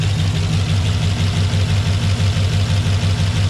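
An LQ4 6.0 V8 fitted with Texas Speed heads and cam idles on its first start, a loud, close, steady lumpy rumble with an even pulsing rhythm.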